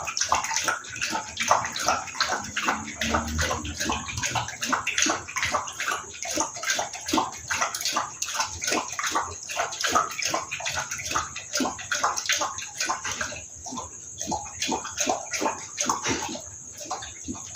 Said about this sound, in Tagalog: He's drinking water.